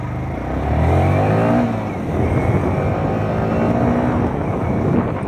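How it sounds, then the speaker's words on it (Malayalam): Motorcycle engine revving under riding, a loud throbbing roar with a quick throttle blip for a clutchless upshift, the pitch dipping then picking back up, continuous with no pause. "ആ ഗിയർ ലിവറിലെ പ്ലേ എടുത്ത് കളഞ്ഞതിന് ശേഷം നമ്മുടെ ഈ ത്രോട്ടിൽ ഇങ്ങനെ ബ്ലിപ്പ് ചെയ്യുകയാണ് വേണ്ടത്."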